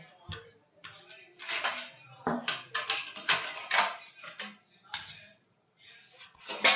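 Dishes and utensils clink and scrape close by as food is served at home, in an irregular run of light metallic taps and clatters with short pauses.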